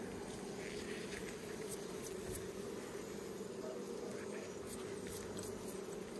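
Honeybees buzz around a beehive frame in an apiary, a steady droning hum with occasional brief louder passes of bees flying close by, continuous and without talk.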